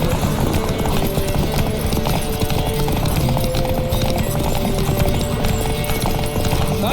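Horse hooves pounding in a fast race in The Witcher 3 video game, a rapid, heavy gallop rhythm running continuously and loudly with game sound layered over it and no voices.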